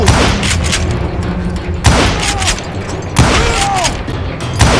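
Gunshots in the video game Call of Juarez: Gunslinger: three loud, sharp blasts spaced about a second and a half apart, each with a ringing tail, over a steady game background.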